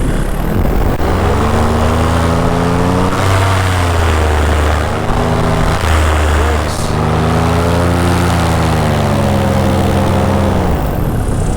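Light propeller aircraft on approach for landing, a loud steady engine drone whose pitch slowly rises and falls, with heavy wind rush throughout and no clear talk.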